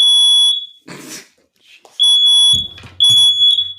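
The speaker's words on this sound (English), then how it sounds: "Mira just set off her smoke alarm because she's smoking pot." A smoke alarm set off by marijuana smoke shrills in loud, piercing bursts with pauses between, while a person moves and fumbles nearby.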